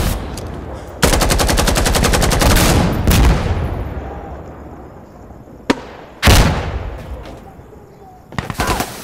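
Automatic gunfire bursts from a tactical shooter game, Insurgency: a long rapid volley followed by a shorter one, then a single loud shot and more bursts, close and sharp.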